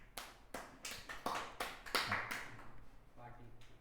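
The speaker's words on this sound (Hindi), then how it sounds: "ओहो ताली।" A few people clap along in a casual setting, about eight or nine distinct, sharp claps in a loose, uneven rhythm, close and moderately loud, trailing off as a voice speaks underneath.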